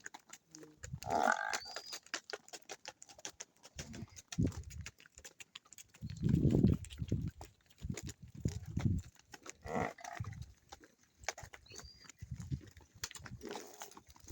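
A long line of Jersey cows and buffaloes gives low, scattered moos and grunts, some close and fairly loud, others fainter, with brief gaps of quiet between the calls.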